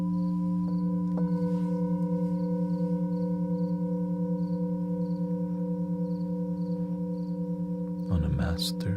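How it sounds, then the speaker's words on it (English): Sustained test tones pushed through a saturator on the master bus, several steady pitched hums layered together and droning evenly, with a short rough burst of noise near the end. "I bumped up my saturator a little bit so you can hear the tones a bit more."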